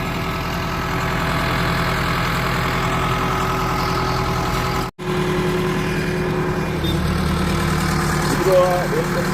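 A tractor engine idles steadily nearby in the GIDC Navapara industrial area of Wankaner, a continuous low rumbling drone with even vibration and a brief dropout midway, while someone talks over it.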